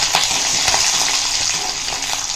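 Curry leaves and urad dal sizzle and crackle in hot oil for a raw banana dish, a close, continuous frying hiss with small pops and stirring scrapes.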